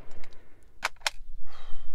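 Rifle shots from a Dreyse needle gun or M1854 Lorenz rifle-musket, two sharp cracks in quick succession at moderate distance, followed by a burst of noise and low background rumble outdoors.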